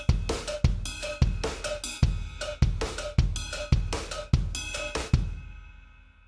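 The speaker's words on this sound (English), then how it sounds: "So I will put my left foot on cowbell." Drum kit groove with a foot-played cowbell and rim clicks: eight sharp, evenly spaced hits in a steady pattern with bright metallic ring, close and loud, ending in a decaying tail.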